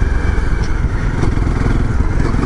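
Motorcycle engine running steadily during a ride, a continuous loud low rumble with broadband wind-like noise throughout and no talking.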